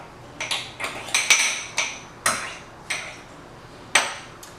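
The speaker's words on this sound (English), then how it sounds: "Going to mix that all up." A spoon mixing microwave oatmeal with milk and cocoa in a bowl, giving irregular sharp clinks and taps against the bowl, close and clear, with no talking.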